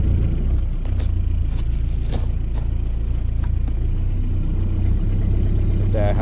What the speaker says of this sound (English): There I have it in reverse, back up a little bit.